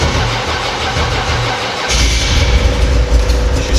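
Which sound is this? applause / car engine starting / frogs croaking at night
car engine starting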